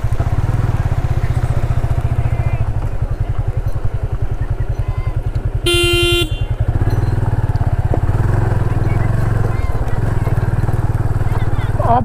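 A motorbike engine drones steadily and loudly on a rough off-road track heading toward Khumkut Dam in Odisha, with a brief high tonal beep partway through.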